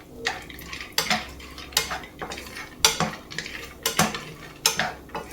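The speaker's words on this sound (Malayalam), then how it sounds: "ആദ്യം നമുക്ക് കശുവണ്ടിപ്പരിപ്പ് വറുത്തെടുക്കാം." Cashews roasting in ghee in a pan for dry fruit ladoo, heard as repeated scraping and clinking of a spatula against the pan at a steady rhythm, with a faint sizzle underneath and no talking.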